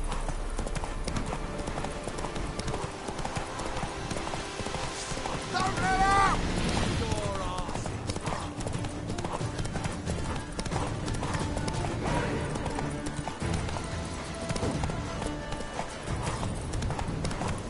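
Horse hooves pound in a rapid, continuous gallop in The Witcher 3 video game, loud and close, with a whinny partway through and a voice speaking over the rhythmic clip-clop.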